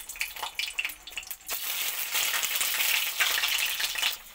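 Eggs go into hot oil in a kadai wok, and a soft crackle swells into a loud, hissing fry that carries on steadily, close and without talk.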